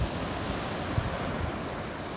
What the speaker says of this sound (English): Hey Park, what do you know about this ocean?